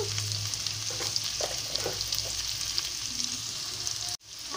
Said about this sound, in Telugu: ఆనియన్స్ పచ్చిమిరపకాయలు కొంచెం వేగాలండి.